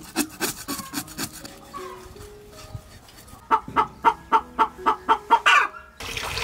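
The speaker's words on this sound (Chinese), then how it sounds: "小鸡下蛋了" Backyard hens near a home where eggs have just been laid: scraping and rubbing at first, then a close, regular run of about eight loud clucks in steady rhythm, followed by a brief louder call.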